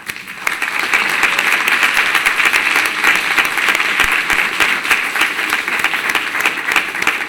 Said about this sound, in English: I would really appreciate it if everyone gave them a round of applause.